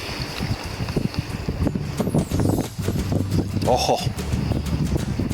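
Cold gusting wind buffets the microphone beside a river on the Middle Provo, a steady rushing roar with water noise beneath and a brief voice exclaiming.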